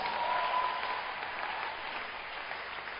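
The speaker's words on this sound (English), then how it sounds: "Clap your hands for Jesus." Hands clapping across a church congregation, a steady, moderately loud wash of applause with a muffled, band-limited tone, holding evenly without voices.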